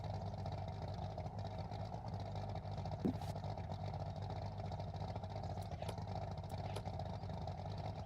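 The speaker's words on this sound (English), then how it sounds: "Chat, do you know why the RX-7 has such a loud fucking motor?" Mazda RX-7 rotary engine in Forza Horizon, a steady droning engine hum held at a constant pitch throughout, moderately loud, with a faint click or two over it.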